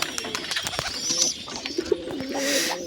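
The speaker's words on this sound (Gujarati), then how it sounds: "આપણી પાસે કબૂતર છે અહીં બેઠું છે" Pigeon coos from a bird perched nearby among kept pigeons, a low soft repeated cooing under scattered chirps and rustling, with a brief brighter bird call near the start.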